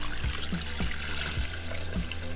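Two cups of broth poured into a 6-quart Nuwave pressure cooker, a steady close liquid trickle and splash running throughout with faint low gurgles.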